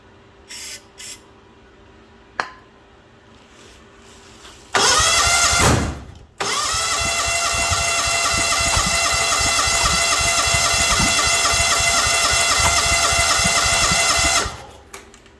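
A John Deere LX277 lawn tractor engine cranks in a few short bursts, roars briefly, stalls, then restarts and runs loud and steady up close indoors for about eight seconds before cutting off.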